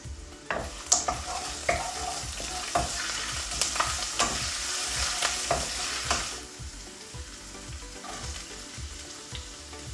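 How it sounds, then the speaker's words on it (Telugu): Onions fry in a pan with a continuous crackling sizzle while a utensil stirs and scrapes in quick repeated strokes, close up, with no voices. "సో మంచిగా ఇది ఆనియన్ ఫ్రై అయ్యే వరకు కొంచెం ఆనియన్లో తడిపోయే వరకు ఫ్రై చేసుకోవాలి."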